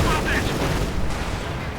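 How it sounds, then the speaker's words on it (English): A heavy mortar fires repeatedly in the strategy game Company of Heroes 2, with dense booming blasts and battle noise rumbling throughout under a commentator's voice. "Heavy mortar blasting away, not really hitting anyone so far"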